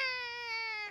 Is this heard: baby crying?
yes